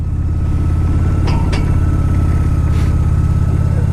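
A Honda Shadow 750 motorcycle with a new battery idling steadily up close, a loud, even low rumble with a couple of faint clicks over it.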